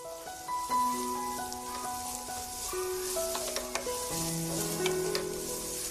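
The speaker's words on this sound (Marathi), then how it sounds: "आता यामध्ये कांद्याच्या पातीचा पांढरा भाग घालून 1-2 मिनिटं आपल्याला परतून घ्यायचे." The white parts of spring onions sauté in a pan, giving a soft, steady sizzle with occasional stirring scrapes, while gentle instrumental music plays over it.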